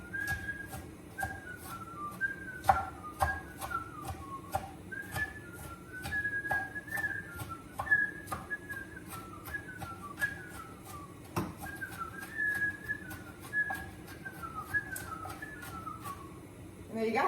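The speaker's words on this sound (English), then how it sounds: "the trick to not crying is to whistle while you cut your onions" A person whistles a familiar tune in a home kitchen while cutting onions, bright warbling phrases repeating throughout, with sharp knife taps on a cutting board sounding alongside at a fairly quiet level.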